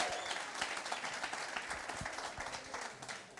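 A crowd claps for contestants at a township entrepreneurs' event in Motherwell, steady dense applause heard at a distance throughout, fading slightly at the end.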